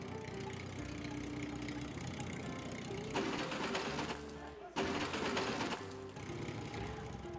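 Engine hum of a hot rod tractor in the FarmVille farming game, a steady mechanical drone with a louder burst in the middle, under a presenter's voice at a 2010 WWDC iPhone 4 keynote.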